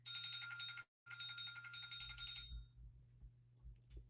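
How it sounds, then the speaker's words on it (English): An electronic timer alarm rings with a bright, continuous tone that cuts out briefly, resumes, then stops, leaving quiet low rumbles behind. "it's our episode timer."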